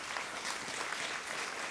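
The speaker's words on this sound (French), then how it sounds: "où on peut applaudir" Church congregation applauding during a sermon, a dense continuous wash of many hands clapping, moderately distant and steady, with no voices over it.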